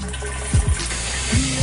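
Filtered water pours into a keg while cherry cream soda is being mixed, a short gushing splash over a steady background hiss.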